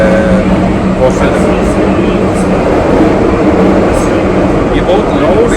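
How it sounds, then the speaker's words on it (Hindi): A Paris metro train runs deep underground with a loud, continuous roar and rumble, accompanied by metallic squeals and hiss throughout, steady with no pauses. "ये बहुत लाउड है, सारी नहीं लेकिन कुछ मेट्रो बहुत ज़्यादा लाउड है"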